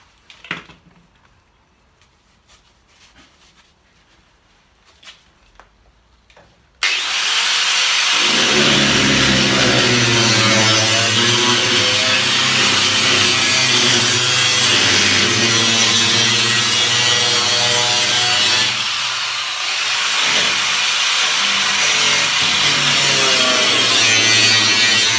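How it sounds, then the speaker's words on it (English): Angle grinder cutting out the rusty floor panel of a 1989 Classic Mini, starting abruptly after a quiet pause and running loud and continuous with a harsh, steady whine, briefly dipping near the end before resuming. "grinder's out. Let's get to it."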